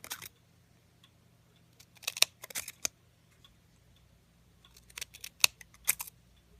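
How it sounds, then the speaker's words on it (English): Fringe scissors snip along the length of a paper strip, two clusters of quick crisp close cuts separated by a quiet pause, with no talking. "I'll get my fringe scissors, and on the back I'll go ahead and start cutting all the way on down the length of the paper"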